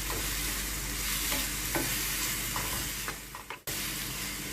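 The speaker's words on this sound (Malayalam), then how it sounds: "തേങ്ങയും ഉള്ളിയും മുളകും കൂടി ചതച്ചത് ചേർത്ത് മിക്സ് ചെയ്ത് ഇതൊരു 2 മിനിറ്റ് ഇളക്കി കൊടുക്കുക" Cassava peel with crushed coconut, onion and chilli sizzles steadily in a pan, with repeated spoon scrapes and stirring knocks over the hiss and a brief lull and clatter near the end.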